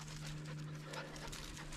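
Puppies pant rapidly and let out soft whimpers up close, in one short steady stretch with a faint voice in the background.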